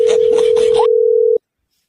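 Phone tone after a call is hung up: a steady, loud, pure electronic tone holding for over a second, briefly under a voice at the start, then cutting off abruptly into silence.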